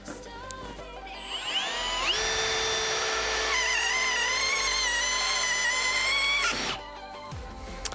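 A Milwaukee M18 FPD2 cordless impact drill-driver spins up to a high, rising whine, holds a loud steady run for several seconds, then winds down, alone and close.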